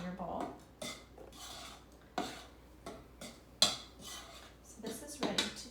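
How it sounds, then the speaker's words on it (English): Dry cookie dough ingredients stirred in a bowl for chocolate chip cookies, heard as a spoon scraping and clinking against the bowl in several separate strokes, close and fairly quiet, with no talking. "You just stir it up in your bowl."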